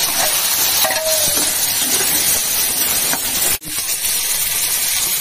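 Green chillies hit hot oil in a pan, producing a loud, close, continuous hiss and sizzle with a faint clink early on and a brief dip partway through, with no talking.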